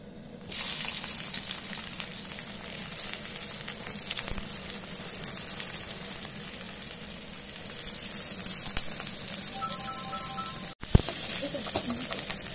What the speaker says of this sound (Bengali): তো দেখো পেঁয়াজগুলো ভাজা ভাজা হয়ে এসেছে।